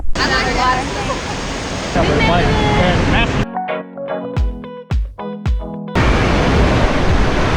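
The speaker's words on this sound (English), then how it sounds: "Water park, not just a pool, it's a water park." Steady roar of splashing water and echoing crowd noise fills an indoor water park at Great Wolf Lodge, broken midway by a few seconds of quieter, tonal sounds before the rush returns.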